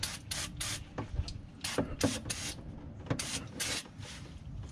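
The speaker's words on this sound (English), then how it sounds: "brake cleaner." Short bursts of brake cleaner sprayed from an aerosol can during an oil change on a 2004 Trailblazer 4.2, several hissing blasts in an uneven rhythm, close and fairly loud with no talking.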